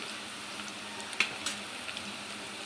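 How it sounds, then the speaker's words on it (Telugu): Onions frying in a pan, a soft, steady sizzle with faint crackles and a couple of small pops, close and quiet, with no voices. "ఇలా ఫ్రై చేసుకోవాలండి. ఆనియన్స్ ఇలా లైట్ కలర్ అయిపోవాలి, లైట్ పింకిష్ కలర్."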